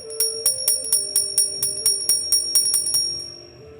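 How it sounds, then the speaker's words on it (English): A small bell rings in a steady, quick series of about fourteen bright, clear strikes, each one ringing briefly before the next, ending with a short fading tail. "Just going to ring the bell."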